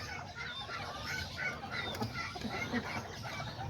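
A small kikiriki rooster clucks softly, giving a quiet run of short, scattered clucks and chirps at close range over a faint background hiss.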